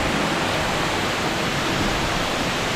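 A waterfall tumbles into pools in a hidden canyon cave, sending up a steady, dense rush of water noise that stays constant throughout with no voices.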